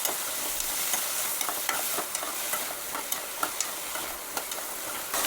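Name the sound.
carrot pieces stirred and frying in oil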